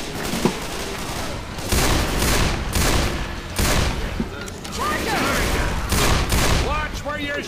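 Rapid bursts of video game gunfire from Left 4 Dead 2, repeated volleys in quick succession over several seconds, loud and dense with background game effects.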